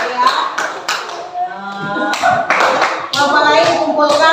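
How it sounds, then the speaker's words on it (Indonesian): Brief, scattered hand clapping from a small group of children in a classroom, uneven and short-lived, mixed with some chatter in the room. "beri tepuk tangan untuk kelompok 2"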